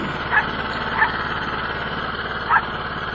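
Chinese snow blower engine idling at one-eighth throttle while warming up from a cold start, a steady low mechanical hum with faint periodic knocks, three brief louder pulses standing out over the drone.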